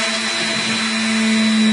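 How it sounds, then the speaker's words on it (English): A small power drill boring a series of holes in a plastic model kit whines at a steady high pitch, loud and close, running continuously and rising slightly in intensity. "All we're doing is drilling a series of holes in this."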